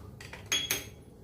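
Dry chana dal and moong dal tumble into a heated pan, giving two short, close rattling bursts of small hard grains on metal, followed by quiet.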